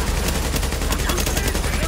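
Rapid, continuous bursts of gunfire in the video game The Division crackle loudly without pause, like sustained automatic fire in a firefight.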